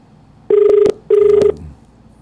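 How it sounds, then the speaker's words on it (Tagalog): Two loud electronic telephone ring bursts, each about half a second long with a short gap between, close and clear. "Tawagan nga itong telepono ng Paul Antonio Chua para makausap natin dit"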